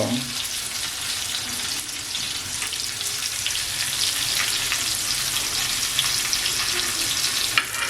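Squid pieces fry on a tawa over low gas, giving a dense, even hiss of sizzling oil that holds steady throughout, close up with a faint tap near the end and no talk.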